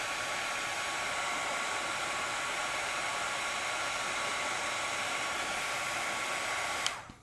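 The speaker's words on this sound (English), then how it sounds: "And as I'm heat shrinking this" Heat gun blowing a steady loud hiss of hot air while shrinking heat shrink tubing over an XT30 connector for power wiring, continuous for about seven seconds and cutting off abruptly at the end.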